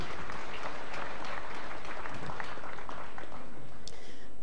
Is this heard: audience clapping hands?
yes